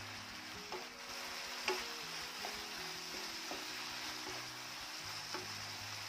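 Roasted okra stirred into a spice masala in a hot pan, with a steady soft sizzle and occasional light scrapes and clicks of the spoon against the pan, close and quiet, no talking.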